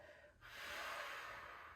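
A soft, breathy exhale during a yoga mat practice, beginning after a brief quiet moment and lasting over a second as a smooth airy rush, close and gentle with no talking.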